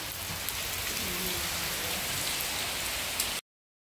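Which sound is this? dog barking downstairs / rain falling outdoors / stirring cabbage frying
rain falling outdoors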